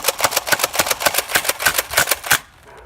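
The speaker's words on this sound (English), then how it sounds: "And slam firing off the last few." Nerf Tri-Strike pump-action blaster slam firing darts in a quick run of about fourteen sharp mechanical cracks at an even rapid rhythm, close and loud, then stopping.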